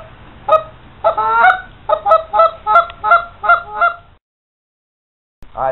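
A hand-blown goose call with a muffled chamber gives a rapid run of about eight mellow, close honks, then a pause and one more honk starting at the end.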